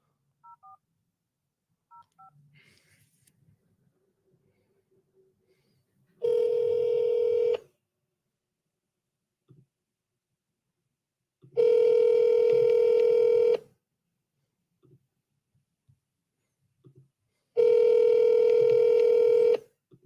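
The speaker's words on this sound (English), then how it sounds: "just going to give Paula a call" Telephone call being placed: a few faint dialing blips at first, then three long ringback tones, each lasting about one to two seconds, separated by several seconds of near silence.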